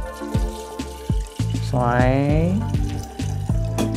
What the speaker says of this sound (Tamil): தண்ணி ஊற்றிட்டோமா